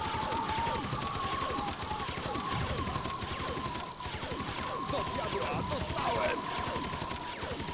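Gunfire rattles in the real-time strategy video game Earth 2160, dense continuous bursts of rapid shots and volleys that overlap in a loud, unbroken battle din.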